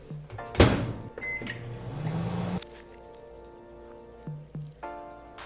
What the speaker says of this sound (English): Let's take this to the microwave.